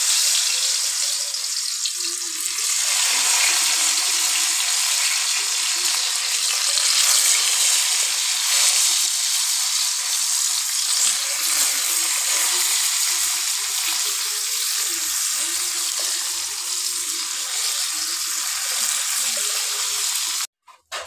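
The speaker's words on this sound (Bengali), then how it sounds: "এই যে সবগুলো বড়া এবার কড়াইতে দিয়ে দেবো।" Fritters of jackfruit seed paste wrapped in pumpkin leaves fry in a wok with a loud, continuous oil sizzle that holds steady throughout, ending in a brief clatter.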